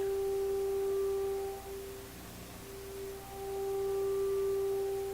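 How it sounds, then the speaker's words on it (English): A steady pure sine-wave tone hums continuously from an Electrohome Kalmar console stereo receiver's radio over faint static, dipping briefly midway. "the sound of that signal is a pure sine wave."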